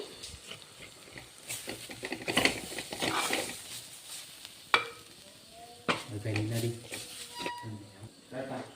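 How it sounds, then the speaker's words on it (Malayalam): Chili powder heating and sizzling in a pan for a homemade Kerala fish curry, with soft frying crackle and stirring scrapes running under a person talking nearby. "മുളക് പൊടി നന്നായിട്ട് ഞാൻ ചൂടാക്കും."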